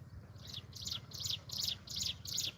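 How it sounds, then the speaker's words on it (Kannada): A bird in the village countryside sings a repeated chirping phrase about six times at an even pace, moderately distant and soft, alone over a low background hum. "ಇಲ್ಲಿ ಒಂದು ಪಕ್ಷಿ ನೋಡಿ ಎಷ್ಟು ಚೆನ್ನಾಗಿ ಸೌಂಡ್ ಮಾಡ್ತಾಯಿದೆ"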